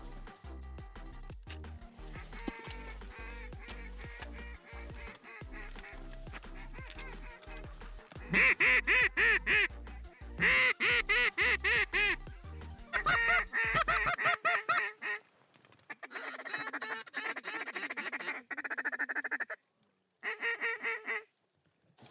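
Mallards and Canada geese call over an oat field in Manitoba, with repeated quacking and honking close by, growing loud in dense overlapping bursts through the middle and later part.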